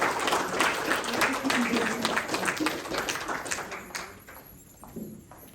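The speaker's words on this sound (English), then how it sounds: "Please give a warm welcome and applause to my partners here again." An audience at a Hmong American Day celebration in a public museum applauds in a brisk, dense patter that slowly thins out, with a voice speaking over the clapping.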